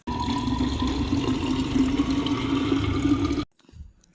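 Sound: filling a water bottle with water

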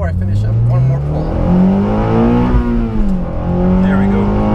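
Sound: 9th gen Honda Civic Si accelerating hard

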